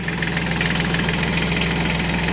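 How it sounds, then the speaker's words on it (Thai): A three-cylinder diesel tractor engine idles steadily up close, a loud, even throbbing rumble with a rhythmic knocking pulse and mechanical rattle, continuous throughout with no talking. "นี่เป็นเครื่องยนต์สามสูบนะครับ"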